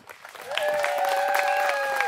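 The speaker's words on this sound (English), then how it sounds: "Please give them all a round of applause." Crowd applause at a pin-up pageant held at a car show, steady and dense after a quieter start, with a sustained tonal whistle or cheer running over the clapping.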